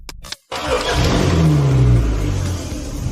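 A car engine idles and then revs gently as the vehicle creeps forward, a steady mid-pitched hum close by after a brief click and pause.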